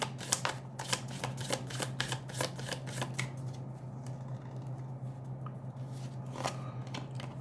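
Tarot cards being shuffled, a rapid run of crisp riffling flicks in the first half, then quieter sparse card handling against a low steady hum.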